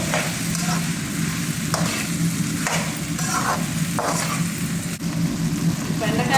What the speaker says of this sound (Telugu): ఇప్పుడు ఇందులో బెండకాయలు ఇవి కూడా ఎత్తి బాగా మగ్గించుకోవాలి